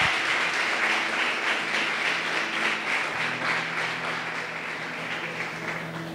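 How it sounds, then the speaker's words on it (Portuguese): A congregation at a church retreat applauding, a thick, even clapping that fades slightly over its length, with soft sustained keyboard tones underneath and no talk. "Aplauda Jesus."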